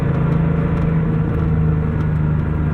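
A 1988 Porsche 911 Carrera with an air-cooled engine cruising on the road, a steady low rumbling drone heard from inside the cabin, even and unbroken with no voices.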